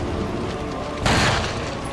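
A single gunshot in the Resident Evil 4 remake, a sudden broadband blast cutting through constant game ambience and briefly dominating it before decaying.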